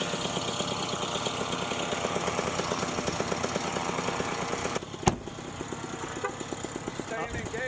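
A small aircraft engine with a troublesome clutch drones steadily and close, its even rumble broken by a single sharp knock partway through, then settling back to a slightly lower running note with faint voices underneath.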